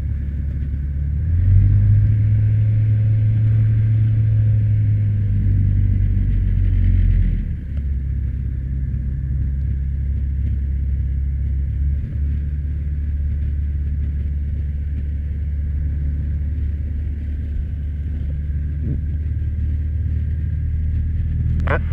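A Savannah S light aircraft engine drones steadily up close while lining up on the runway, a loud low rumble that dips slightly after a few seconds and then holds even.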